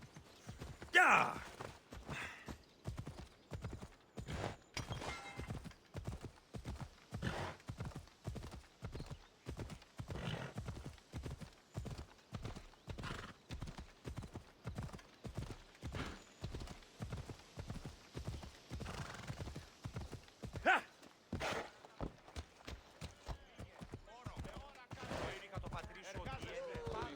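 Galloping horse hooves in the video game Assassin's Creed Odyssey, a steady rapid clip-clop rhythm running for the whole stretch, close and prominent, with an occasional whinny and brief bursts of other game sounds.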